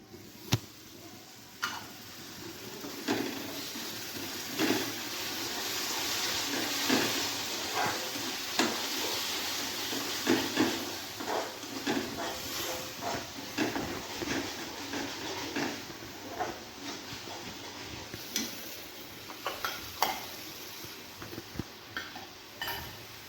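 Tomato puree poured over fried onions in a pan for a paneer curry, a soft continuous sizzle broken by repeated ticks and clinks of a utensil against the pan.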